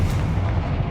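Confringo fire-blast spell in the Hogwarts Legacy video game, a loud, deep booming burst with a rumbling low roar that fills the whole short moment.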